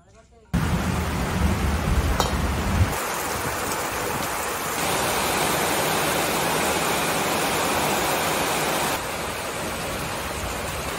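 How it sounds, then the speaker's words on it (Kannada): A dense, loud roar of heavy rain starts abruptly after a quiet moment and pours on steadily without a break. "ಜೋರು ಮಳೆ."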